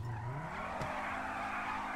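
A car in the video game GTA 5 drives with a loud, continuous engine and a long screeching tire skid, with no talk over it.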